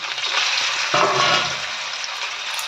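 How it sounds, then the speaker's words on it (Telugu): Marinated gorasa fish, rubbed with salt, chili powder and lemon juice, frying in a hot pan, giving a steady broadband sizzle that briefly surges louder near the middle as pieces hit the oil. "ఇప్పుడు అవి వేసుకొని ఫ్రై చేసుకుందామండి"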